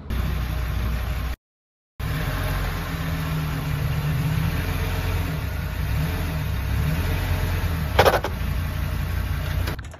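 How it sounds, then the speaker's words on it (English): A Dodge Ram SRT-10 truck engine idles steadily to warm up, a continuous close low rumble with a brief dropout early on and a short sharp clatter near the end. "What you want to do is make sure the engine is good and scaldingly hot."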